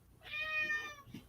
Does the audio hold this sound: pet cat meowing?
yes